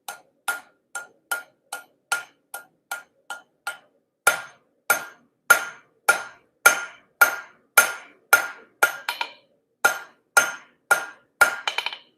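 A hammer strikes hot metal to draw out a taper on a hook, about two dozen sharp ringing blows in a steady rhythm, loud and close, with a short pause partway and no talking.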